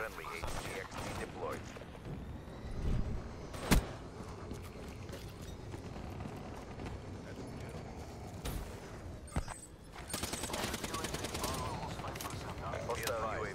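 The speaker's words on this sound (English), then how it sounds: "Why in the world is it that the suppressor doesn't sound like an actual suppressor?" Suppressed gunfire in a multiplayer shooter video game, dense repeated muffled shots and mechanical clatter running throughout with sharper bursts, under a player's talk.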